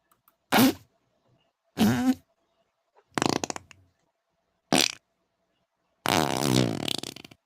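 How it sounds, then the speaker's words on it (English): Five separate fart noises, each short and loud, play one after another with silent gaps between them, and the last one is longer and sputtering. They are dubbed over a slideshow of tweets. "It's just a slideshow with nothing but fart noises of him just farting and showing tweets."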